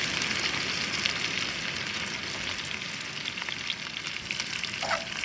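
Candied bacon cooking down in a pan into a thick, sticky glaze for a Filipino breakfast, a dense, steady loud sizzle and crackle throughout with faint stirring scrapes, no talking.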